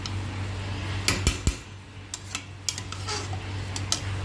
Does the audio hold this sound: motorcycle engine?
no